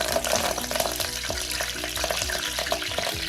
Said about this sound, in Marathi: तेल गरम झाल्यावर मी इथे टाकते आहे कढीपत्ता